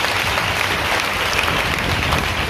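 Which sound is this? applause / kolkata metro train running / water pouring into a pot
applause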